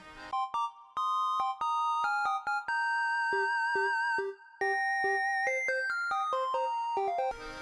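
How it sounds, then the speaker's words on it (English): A cheerful synth ringtone from a mobile phone in the Professor Layton and the Diabolical Box game, playing a bright stepping melody of short notes, loud and alone with no voices. "Getting a phone call again."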